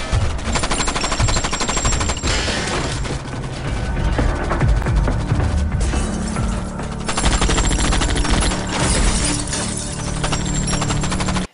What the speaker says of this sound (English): We see him there, and these Korean people try to shoot him up because they got the Ghost's assistant